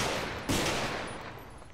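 Gunfire rings out in the GTA roleplay game, a single loud burst midway that decays into a fading rumble, with the game's ambient noise running underneath.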